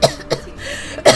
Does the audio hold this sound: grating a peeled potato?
no